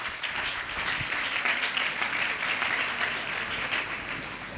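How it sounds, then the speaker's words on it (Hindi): A congregation at a Sunday church service claps together to glorify God, producing a steady, dense wash of applause that stays even and loud throughout. "ताली बजा के खुदा के महिमा करें।"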